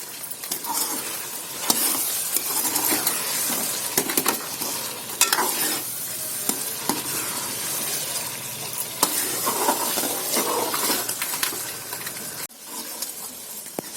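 Lobia chicken curry with potatoes fries in a pan, a close, steady sizzle under repeated stirring scrapes and soft spoon knocks, with no talk.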